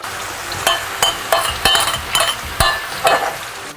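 Mushrooms sizzling in butter in a frying pan, a steady frying hiss broken by repeated sharp clinks and scrapes of a utensil stirring against the pan, close and fairly loud.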